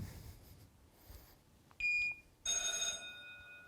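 An electronic bell rings as the take signal on a motion capture shoot in a studio, sounding as two loud, sustained tonal bursts separated by a short gap, over quiet room ambience.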